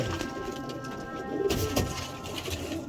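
Pigeons cooing in a breeding loft among birds sold as a teddy breed, with soft continuous murmuring coos and wing shuffles at a steady moderate level throughout.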